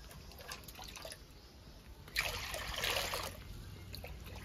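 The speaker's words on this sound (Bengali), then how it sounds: "তো একটু জল দিয়ে দিচ্ছি, জল গরম করবো আমি মাশরুমগুলো ধোয়ার জন্য" Water poured into a pot for heating to wash mushrooms, a soft trickling and splashing that swells into a brief fuller gush midway, close and fairly quiet against a low kitchen background.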